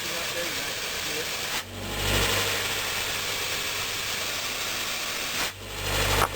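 A Honda Civic engine runs with a leaking exhaust muffler, giving a steady hissing, breathy roar at close range, broken by two short dips where the noise drops before rising again.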